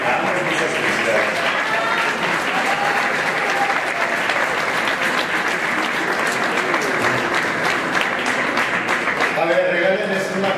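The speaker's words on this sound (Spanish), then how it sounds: "A ver, regálenles un aplauso más fuerte," Dense, steady audience applause fills a journalism award ceremony for human rights reporting, a continuous crowd of clapping hands at even loudness with faint voices mixed in.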